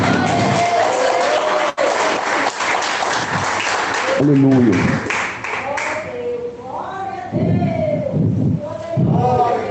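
Members of an evangelical congregation clap during preaching, with loud, dense clapping under shouted voices and a man calling out. The clapping thins after a few seconds as spoken and sung voices take over.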